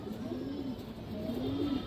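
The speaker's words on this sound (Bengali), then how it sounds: "এই যে দেখেন কবুতরটা, এটাও খুব ভালো কবুতর দর্শক" Domestic pigeon on a breeding farm, soft low cooing in two drawn-out phrases, close but quiet, alone with no talk.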